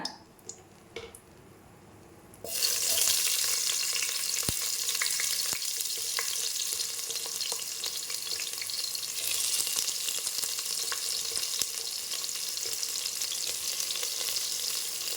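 Chopped onions and cardamom hit hot oil for tomato rice, a quiet start giving way to a loud, steady sizzle that holds for over twelve seconds, with occasional stirring scrapes.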